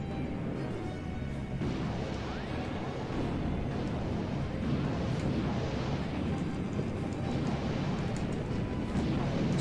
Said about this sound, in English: Plasma gun, plasma cannon.